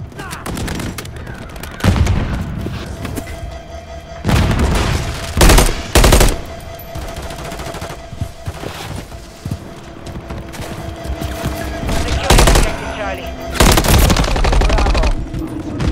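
Gunfire in Call of Duty: Modern Warfare III multiplayer Domination on the Rust map: loud, repeated automatic bursts and sharp shots in irregular clusters over a steady background of game ambience.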